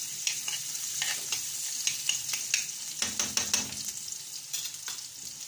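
Garlic fries in oil in a pan with a bright, continuous sizzle, broken by clicks and scrapes from stirring that come and go.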